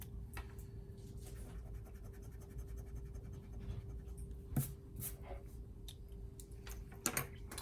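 Pencil eraser rubbing over paper to remove part of a floor-plan sketch, a steady soft scratchy friction running nearly the whole time at close range, with a couple of brief taps near the end.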